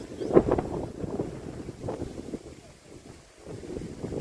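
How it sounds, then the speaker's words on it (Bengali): Stormy wind blowing near a river in the Sundarbans during bad weather before rain: gusty low rumbling buffets against the microphone, swelling and easing, loud and close. "আর ঝোড়ো হাওয়া চলছে"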